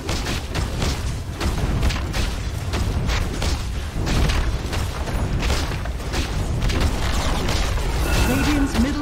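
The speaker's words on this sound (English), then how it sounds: "Radiant's middle tower has fallen" Dota 2 match with a middle tower collapsing amid dense, continuous battle noise: rumbling booms and crackling impacts throughout, a steady loud wash with no pause.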